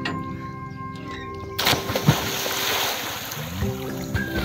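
A person jumps into the cold Koyna river at Tapola, and a sudden broad splash and watery rush rise over faint outdoor ambience, followed by a brief thump and continuing churning water.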